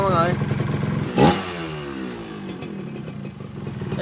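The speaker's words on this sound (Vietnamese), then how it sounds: "Ok, nổ máy rồi nha mọi người." A small Yaz engine, assembled by hand from parts, starts and runs with a steady close chugging rhythm, with a sharp louder burst early on before it settles.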